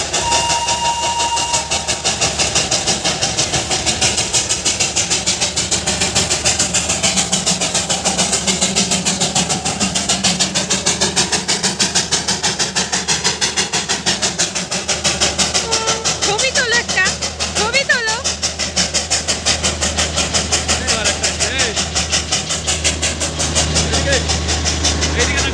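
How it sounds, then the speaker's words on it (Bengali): The Darjeeling toy train joy ride enters Batasia Loop with a loud, continuous engine rumble and rail clatter that holds steady close by, while a voice talks over it. "খুব ঝিকঝিক ঝিকঝিক করতে করতে আর এই রকম ধোয়া ওড়াতে ওড়াতে বাতাসিয়া লুপে ঢুকে পড়লো জয় রাইড।"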